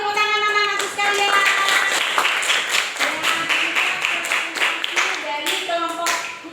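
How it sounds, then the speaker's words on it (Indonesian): Students in a classroom clap together after a group's class presentation, a dense, continuous burst of many hands at close range, with voices talking over it and harmonic tones audible early and late. "Tepuk tangan anak-anakku sekalian."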